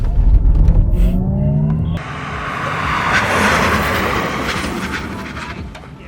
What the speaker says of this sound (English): We're going to go for full ABS braking.